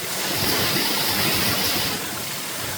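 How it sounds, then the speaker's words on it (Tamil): A river in the Vanni forest rushes continuously, a steady wash of flowing water heard up close, with a slight drop in intensity near the end. "இதான் அந்த ஆறு."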